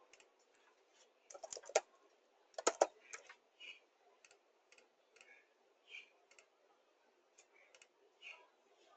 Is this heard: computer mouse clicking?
yes